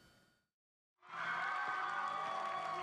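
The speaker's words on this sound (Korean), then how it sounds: "공연도 하기 전에 관람석에서 함성이 터져나옵니다" An audience at a Busan comedy festival cheers and shouts before the show begins, a dense, loud roar of crowd voices that rises suddenly after a brief silence and holds steady.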